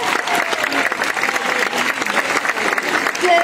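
Audience applause fills a live jazz concert hall: dense, steady clapping from a crowd, loud and continuous throughout, with faint voices mixed in.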